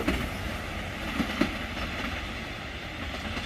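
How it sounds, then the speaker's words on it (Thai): Alsthom 4110 diesel locomotive hauling a train past the Bang Sue diesel depot in the evening, a steady continuous rumble of wheels and rail with faint clacks, heard alone at moderate distance. "หัวรถจักรก็ ผ่าน โรงรถจักรดีเซลบางซื่อ"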